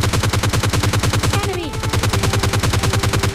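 Rapid, evenly spaced automatic gunfire from a battle royale game rattles loud and close for several seconds without a break, with a brief electronic whine and tone partway through.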